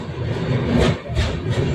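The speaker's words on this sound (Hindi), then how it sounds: "जो गाड़ी जा रही है गोरखपुर से आ रही है, लोकमान्य तिलक को जाएगी। सामने से निकल रही है, देख लीजिए।" A Gorakhpur–Lokmanya Tilak passenger train passes close by with a continuous heavy rumble and rolling rail clatter, the sound surging in brief waves as the carriages go past.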